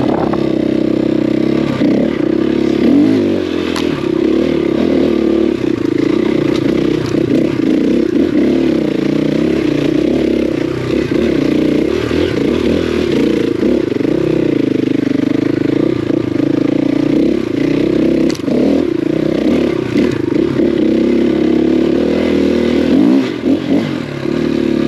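A KTM 500 EXC-F dirt bike climbs a hill, its engine droning steadily and loud throughout with throttle surges, clattering and scraping from the terrain, and no talk.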